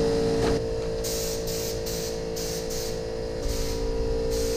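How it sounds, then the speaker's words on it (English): Short bursts of spray paint on a Super M tractor: several brief hissing spritzes separated by pauses over a steady low background hum, close and moderately loud. "I've walked around the tractor probably 10 times just spritzing little places"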